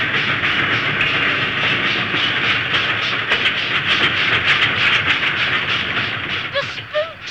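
A night-time spook train rolls past near a camp with a loud, continuous rumble, hissing and rhythmic clickety-clack of wheels on rail joints, easing off slightly at the end.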